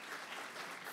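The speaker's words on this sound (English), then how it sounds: "A round of applause." A short burst of faint, distant applause at a business conference, an even patter of many hands clapping together.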